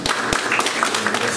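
Brief applause from an audience at an art exhibition event, a short burst of scattered, fairly close claps.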